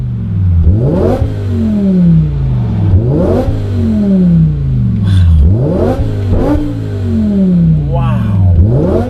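A BMW 850i fitted with a V10 is revved hard in repeated bursts, each climbing to a sharp high-pitched scream and dropping back to idle, loud and close, about four revs in a row.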